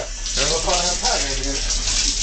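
Shower water runs steadily and close, a continuous hiss and splash, with someone speaking over it.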